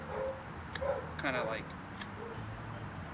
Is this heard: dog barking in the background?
yes